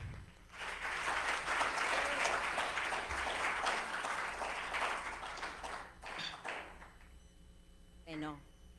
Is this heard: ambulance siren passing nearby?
no